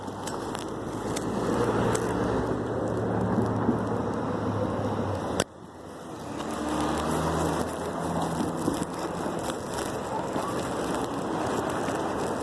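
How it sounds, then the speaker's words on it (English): Steady roar of afternoon road traffic with cars passing close by, a continuous rushing hum with a brief dip midway. "There ain't never this many cars."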